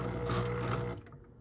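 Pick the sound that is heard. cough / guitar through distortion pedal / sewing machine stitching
sewing machine stitching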